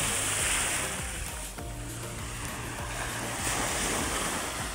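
Sea waves at low tide on a beach, a continuous close wash of surf with breezy wind buffeting the microphone and no voices.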